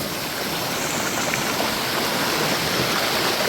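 Water tumbles down a hillside stream, a steady, close broadband rush of splashing flow with no voices over it.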